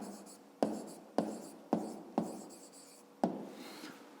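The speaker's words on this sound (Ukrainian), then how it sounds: "Пишемо відповідь." Pen strokes writing an answer to a fifth-grade maths exercise by hand, five sharp scratchy onsets at roughly even intervals, each trailing off, close and quiet with no talk.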